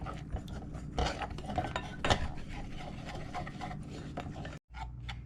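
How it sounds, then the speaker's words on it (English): A whisk stirring a cornstarch mixture in a small cup, quiet rapid clinking and scraping of metal against the cup in an irregular rhythm, close up, with no talking, cut off by a brief silence near the end. "we're gonna give that a whisk"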